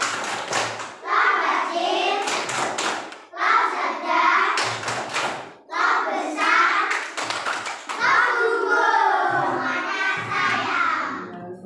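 Schoolchildren in a classroom do a rhythmic patterned clapping routine, bursts of claps alternating with their chanted voices throughout.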